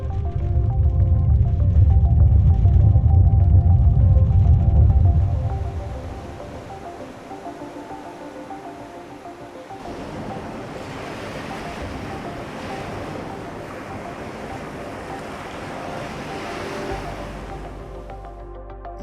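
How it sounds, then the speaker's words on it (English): Tsunami waves in a disaster-prevention simulation: a loud roaring surge of rushing water for several seconds, then a softer, steady wash of waves and wind-like noise that continues to the end. "it propagates a big wave as a tsunami"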